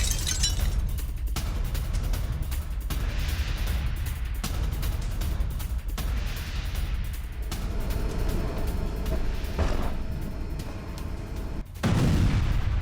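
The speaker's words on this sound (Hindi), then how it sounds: "भूमध्य सागर में रूस ने दागी हाइपरसोनिक मिसाइलें।" Russian hypersonic cruise missiles launched over the Mediterranean Sea, heard in news footage as loud, rumbling blasts and booming explosions that follow one after another, with a heavy final burst.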